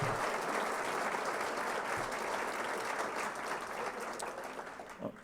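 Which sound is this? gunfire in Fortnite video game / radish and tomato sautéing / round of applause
round of applause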